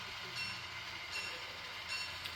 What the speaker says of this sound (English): we have our yard switcher here. He's going to pick up that flat car in the foreground